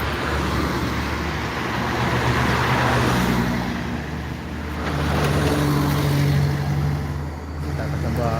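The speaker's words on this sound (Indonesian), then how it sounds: "bus yang dari Sumbar sudah mulai keluar atau sudah mulai bergerak dari dalam Terminal Barcelona" Buses pull out of a bus terminal with low, sustained engine rumble and slowly rising and falling drone, set against a busy, noisy crowd and steady traffic wash.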